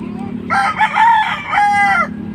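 A rooster crows loudly and close by, one long drawn-out call with rising and falling tones over a steady low background hum.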